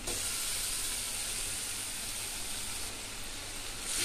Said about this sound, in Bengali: মাছগুলো দিয়ে ভালো করে ভেজে নেব